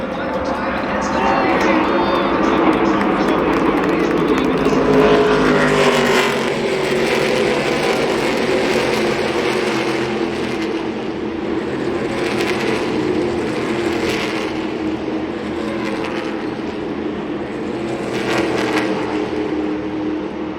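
NASCAR Craftsman Truck Series trucks race in the championship event at Phoenix, a continuous loud roar of engines heard from the stands with crowd noise and an announcer's voice talking over it.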